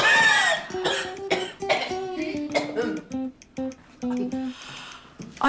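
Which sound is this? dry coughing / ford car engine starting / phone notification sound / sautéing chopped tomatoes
dry coughing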